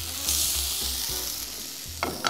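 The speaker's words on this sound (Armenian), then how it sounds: "ավելացնում ենք բամիդորի չիրը" Tomato paste sizzles in a hot pan with frying onion and chicken. The frying hiss is steady and moderate, with a few stirring clatters near the end.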